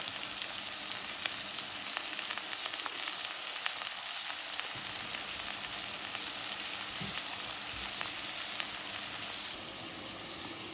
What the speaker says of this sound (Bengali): তেজপাতা, দারচিনি, এলাচ একসাথে ভেজে নেব।